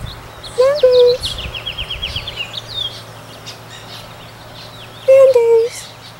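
Two loud, harsh screeches from a Nanday parakeet stand out near the start and again near the end. Softer chirps and twittering from songbirds fill the gap between them in an outdoor setting.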